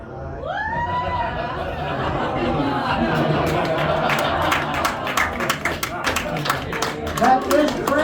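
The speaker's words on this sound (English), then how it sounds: "A big round of applause for Aaron and Julianne." An audience at a close-up card magic show claps loudly, a thick burst of applause with cheering and chatter that swells and then breaks into scattered claps.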